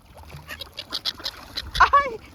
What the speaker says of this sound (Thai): เป็ดร้องไห้